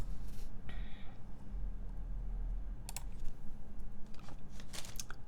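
Typing on a purple mechanical keyboard, with uneven bursts of sharp key clacks and deeper spacebar thocks over a low background hum.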